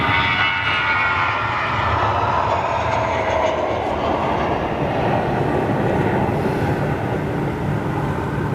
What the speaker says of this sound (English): This is a couple of freighters we're hearing, folks.